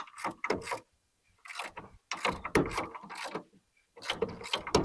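A ratchet tightens the bolt on an e-bike rack, its rapid clicking coming in several close bursts separated by short pauses.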